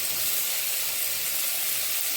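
Mushrooms hit a pan of fried onion-tomato masala and sizzle with a steady, even, close hiss, alone and without talk.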